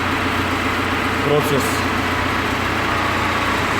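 An Audi A4 2.0 TDI diesel engine runs at a steady idle during an engine decarbonization and exhaust gas test. It makes a constant close drone under a person talking.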